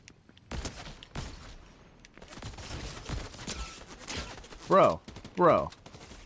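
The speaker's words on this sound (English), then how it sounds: "Who is shooting at me?" Gunfire in the Fortnite video game comes in a few sharp bursts and scattered shots, with a couple of louder blasts near the end, mixed in with a player talking.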